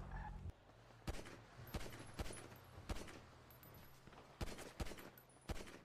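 Gunfire in a GTA roleplay game: a scattered series of sharp shots and short bursts at irregular intervals over a low background hum, fairly quiet overall, with no voices.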